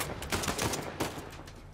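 Rapid gunfire in the game Uncharted 4: A Thief's End, a dense stream of loud, close shots and bursts over a short span with no talking.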